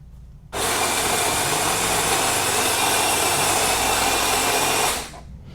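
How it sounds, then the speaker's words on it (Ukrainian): A Jura S8 espresso machine with heavy mileage brews an espresso, starting abruptly with a steady, loud broadband whir and pump roar that holds for about four and a half seconds, then cuts off. "давайте спробуємо еспресо на тих налаштуваннях, які тут вже є"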